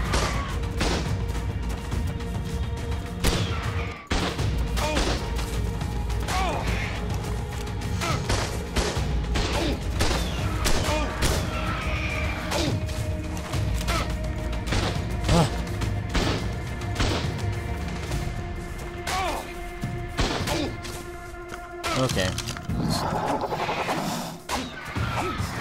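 Gunfire in ARK: Survival Evolved on PC, rapid sharp shots and impacts repeating densely throughout, layered over a steady hum of game music and effects.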